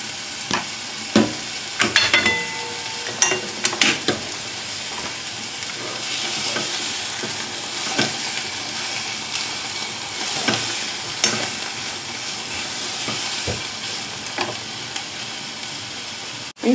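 Onions sizzle steadily in a frying pan while a utensil stirs and scrapes them, with dense clattering strokes early on and a continuous close frying hiss throughout.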